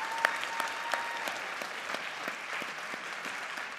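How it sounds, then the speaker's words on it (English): Audience applause at a school board of education meeting, honoring staff and students: steady, moderately close clapping from a room-sized crowd, sustained throughout with a few sharper individual claps standing out. "How about one more round of applause for all the staff and students tonight?"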